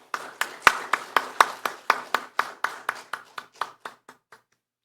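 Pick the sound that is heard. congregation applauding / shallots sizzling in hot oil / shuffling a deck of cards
congregation applauding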